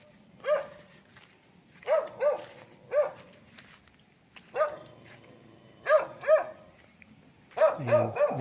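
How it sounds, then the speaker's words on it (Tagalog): A dog at a farm lot beside a road in Nagcarlan, Laguna barks in about eight short, sharp bursts, some spaced apart and some in quick pairs, fairly close and clear over a quiet outdoor background. "May aso."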